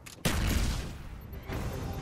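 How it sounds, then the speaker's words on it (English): Mortar strikes in the video game Call of Duty: Black Ops land as two sharp, booming blasts a little over a second apart, each followed by a rolling, noisy decay. "Mortar team support."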